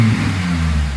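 A Honda Civic Type R FN2 fitted with a Tegiwa exhaust revs up close and loud, holding a steady deep drone for about a second with its tone shifting slightly early on.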